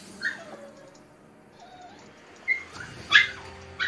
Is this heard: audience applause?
no